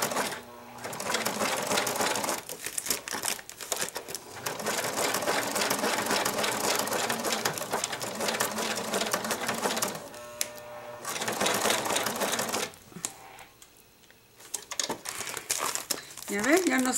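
Sewing machine stitching a purse made from juice pouches, running in long steady whirring bursts with short pauses, close and loud, with a voice speaking now and then.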